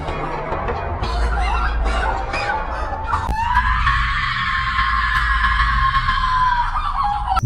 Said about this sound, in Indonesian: Beralih ke Jackson, di mana dia yang terbangun karena samar-samar mendengar jeritan Lauren dari sebelah.